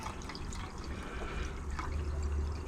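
Liquid from gold refining is poured into a gold wash flask, giving a close, soft trickle and gurgle that swells slightly toward the end with no speech.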